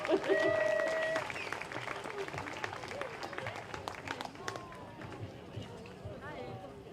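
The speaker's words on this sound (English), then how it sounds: "Give everyone a round of applause" Audience applause at an Extinction Rebellion Festival of Resistance event, a loud burst of clapping and crowd noise at the start that thins out over several seconds, with voices and outdoor bustle mixed in.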